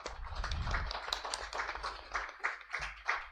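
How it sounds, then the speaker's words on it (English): A small group claps at a press conference, faint, sparse hand claps in an uneven patter with a soft low thump near the start. "So round an applause for everyone,"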